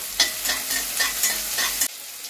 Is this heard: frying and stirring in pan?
yes